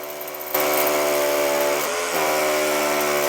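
Rotary hammer drill boring during plasterboard and wood-fibre insulation work, starting abruptly after a short quiet moment and then running loud and close with a harsh buzzing whine, with a brief dip partway through before it resumes.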